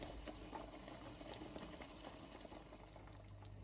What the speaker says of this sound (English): we're just going to turn the heat back down and we're going to let this simmer